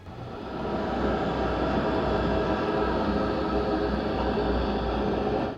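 Layered Alan Wake bat swarm effect built from processed animal sounds, a continuous roaring, rushing wash of fluttering noise with a rumbling low end, loud and unbroken throughout before cutting off sharply.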